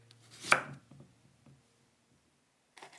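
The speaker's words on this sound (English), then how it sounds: "Cut the limes." A knife cuts through limes on a board for a Vietnamese nuoc cham dipping sauce, giving one firm close chop followed by a few faint, scattered cutting taps, then a short brush of sound at the end.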